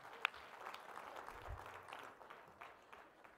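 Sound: applause for the live auction winner

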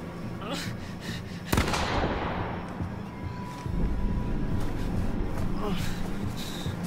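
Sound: gunshot in video game The Quarry

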